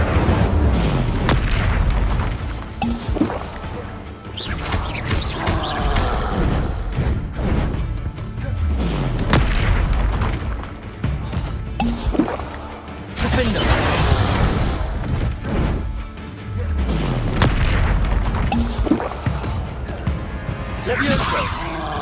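Fire spells, Incendio among them, are cast in Hogwarts Legacy video game combat: a dense run of booming blasts, crashes and whooshing bursts in waves, with voices over the action.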